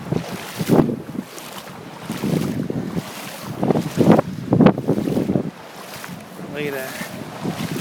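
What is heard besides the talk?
Hurricane Sandy wind blowing hard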